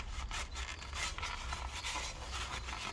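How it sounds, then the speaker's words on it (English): Cloth or rag rubbing and wiping along metal under an Audi Q7 to mop up drained engine oil, a close, continuous scrubbing sound with rhythmic strokes. "I'm just going to try and mop up some of the bigger mess that came out of this"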